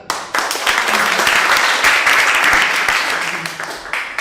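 Applause from a classroom of students, a full burst of many hands clapping that swells quickly, holds steady and tapers slightly toward the end.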